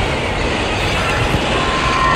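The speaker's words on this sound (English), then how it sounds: "Here comes the train." A light rail Expo Line train rumbles past close by beside traffic, a loud continuous roar of wheels on track with a faint high squeal.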